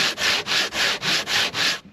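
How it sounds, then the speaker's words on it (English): Sandpaper rubbed by hand along the grain of a board for a rustic wooden box, seven even back-and-forth strokes in a steady rhythm, close and crisp with no voices. "we can use sandpaper. When you're making this operation, you have to grind along the grain"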